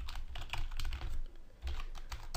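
Computer keyboard typing while coding in Unity, a quick run of close, soft key clicks for a couple of seconds with no talking.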